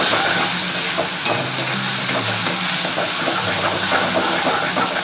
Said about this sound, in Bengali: এবার দেবো টমেটো, একটা বড় টমেটো আমি পেস্ট করে নিয়েছি। এবার হাই ফ্লেম দিয়ে এটাকে আমি ভাজবো।